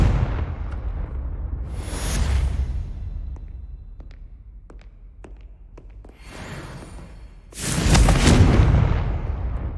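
An explosive spell blast in the Hogwarts Legacy video game: deep rumbling booms with crackling, with a loud heavy burst near the end and a continuous low roar throughout.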